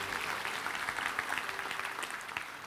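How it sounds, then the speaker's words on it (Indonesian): A church congregation claps together in a dense, steady round of applause during a sermon, the sound filling the room evenly without any voice on top. "Kasih tepuk tangan sekali lagi"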